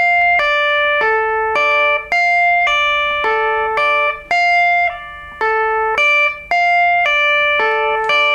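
Guitar plays a riff, bright picked notes in a repeating arpeggiated pattern cycled four times, each round ending with a brief pause, clear and loud with nothing else heard.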